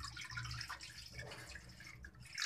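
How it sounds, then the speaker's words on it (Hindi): Water poured into water chestnut flour for a sweet barfi, a soft close trickle and splash with faint dripping, steady and quiet with no talk. "इसमें हम हाफ पानी डाल देंगे।"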